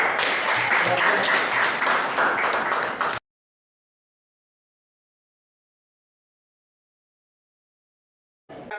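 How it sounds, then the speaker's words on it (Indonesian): Classroom students clap for a discussion group for about three seconds, steady and fairly dense, then everything cuts to silence before a brief sound returns at the very end. "tepuk tangan untuk kelompok 3"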